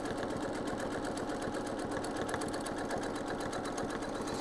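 A sewing machine runs steadily and continuously while free-motion quilting a feather along its spine, a dense, even mechanical whir close up with no talk.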